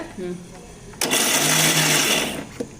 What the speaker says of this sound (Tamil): ஒரே சுத்து கடலை சேர்த்ததுக்கப்புறம் அரைச்சிட்டிங்க